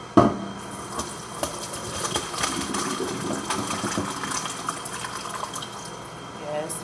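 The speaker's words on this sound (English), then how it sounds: "I'm about to pour it on up inside of the strainer." Homemade mango habanero sauce pours and trickles steadily into a strainer, a soft continuous splashing with a sharper clatter at the start, heard up close.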